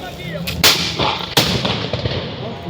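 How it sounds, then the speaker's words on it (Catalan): Muskets fire at a reenactment battle of the Siege of Tortosa, several loud sharp cracks close by in quick irregular succession, with outdoor ambience between shots. "Les forces austricistes estan rebent trets des del seu front i des de la seva banda dreta."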